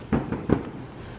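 Fireworks on New Year's Eve 2016 pop three times in quick succession, dull mid-distance bangs over a quiet night background.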